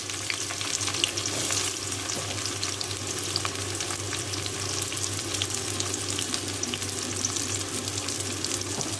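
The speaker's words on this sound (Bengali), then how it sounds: "এটাকে হালকা লাল লাল করে আগে ভেজে নেব।" Sliced onions and slit green chillies fry in oil with a dense, continuous close sizzle and crackle that holds steady throughout, without speech.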